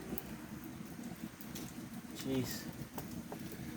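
Rain falling outdoors, a soft continuous patter heard fairly faintly, with a few scattered small clicks and a brief faint voice-like sound partway through.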